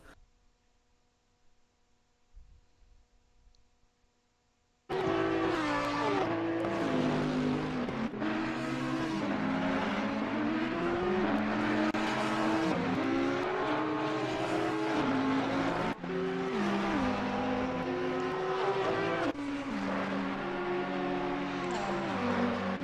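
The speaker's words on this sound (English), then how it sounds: "So staying on board with Michiel in the Audi, and he's chasing down the Ferrari of Ampere." Onboard engine sound from an Audi GT race car chasing a Ferrari around Spa in Assetto Corsa Competizione: a loud, sustained engine howl rising and falling through gear changes after a few quiet seconds, with abrupt shifts in pitch.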